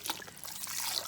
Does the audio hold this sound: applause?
no